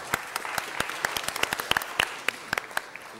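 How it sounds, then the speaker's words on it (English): Scattered applause at a student event during a city council meeting, a modest number of individual hand claps, irregular and fairly close, with no talking over it. "A big applause."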